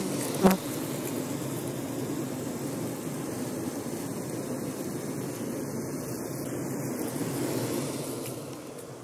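Fanning honeybees drone at the hive entrance during a heatwave, a dense continuous buzz that holds steady throughout, close and fairly loud, with a brief knock near the start.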